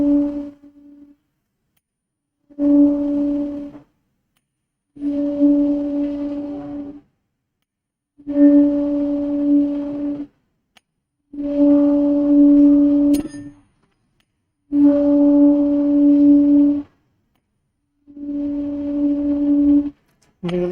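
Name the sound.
tuning fork resonating in Helmholtz resonator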